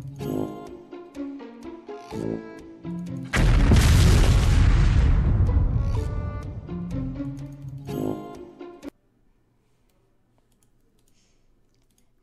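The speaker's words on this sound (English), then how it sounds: "So you can click on the catapult, and you will be shot in it." A catapult in the video game AdventureQuest Worlds launches the player with a loud booming whoosh that fades over several seconds. Game music and clicking surround it, then it cuts to near silence.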